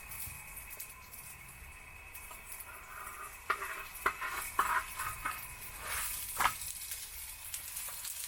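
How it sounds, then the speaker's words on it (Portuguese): Chai simmers quietly in a pot at a forest stop on Turkey's Lycian Way, with a faint bubbling hiss and a few soft clinks of utensils. "Tá o chai fervendo."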